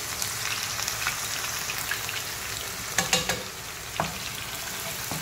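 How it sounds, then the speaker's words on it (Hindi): Onions for beef biryani fry in a pan with a continuous bright sizzle, broken by a few sharp crackles and spatters, heard close and alone without talk. "तो आपके प्याज लाइट ब्राउन आपने करने हैं ठीक है, इस तरह से"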